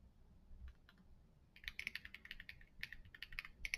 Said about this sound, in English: if I can type right here